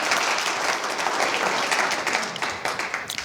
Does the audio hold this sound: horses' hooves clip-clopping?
no